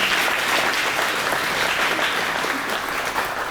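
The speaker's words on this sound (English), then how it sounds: "let's give everyone from helping out this contest a big round of applause" A rodeo queen competition crowd applauds steadily, a dense wash of clapping that holds at full strength for several seconds without letting up.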